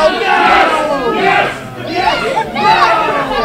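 A Philadelphia wrestling crowd chants in loud, repeated swells, many voices rising and falling together in a steady rhythm, close and dense.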